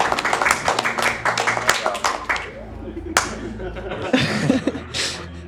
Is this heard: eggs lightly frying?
no